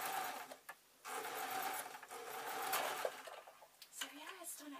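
A sewing machine stitches fabric right side to right side in quick, fairly quiet whirring runs broken by brief stops, with faint background voices.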